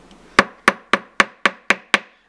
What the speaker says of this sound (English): So you're going to push that ring down and hold it like that, and then you're going to hammer